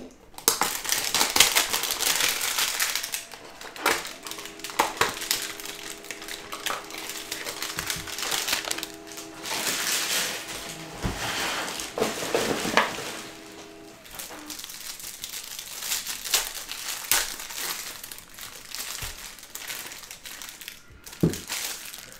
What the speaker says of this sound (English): Let's quickly rip this hanger box.